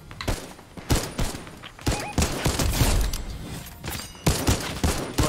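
Gunfire bursts in a Fortnite duo match, rapid clustered shots in repeated volleys fired from a barn window, loud and close with brief gaps between bursts.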